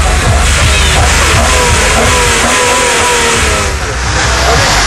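A tuned BMW with a modified engine revs loudly in a parking lot, a sustained, near and steady roar with rising pitch sweeps, and voices are faintly audible underneath.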